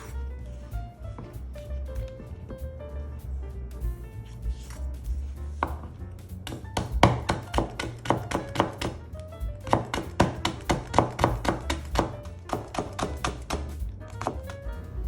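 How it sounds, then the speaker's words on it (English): A knife on a cutting board julienning peeled carrots for Japanese New Year kouhaku namasu pickles, starting with scattered cuts over low background noise and building into a fast, steady run of crisp chopping taps. "peel the carrots and cut them into julienne"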